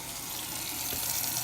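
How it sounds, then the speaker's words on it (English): Water poured from a tap into Maseca masa mix for gorditas, a steady close splashing stream that runs without a break. "All you gotta do is add water."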